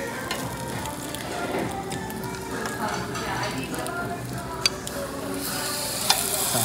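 Kimchi sizzles on a Korean barbecue grill, giving a steady crackling fry with stirring and scraping, plus a couple of sharp clicks near the end.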